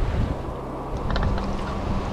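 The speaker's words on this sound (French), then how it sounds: "Moi je suis plein de vent." Strong wind blowing steadily across a lake during a carp fishing session, a continuous loud buffeting roar with rushing gusts and no speech.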